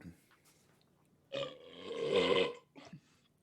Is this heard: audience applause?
no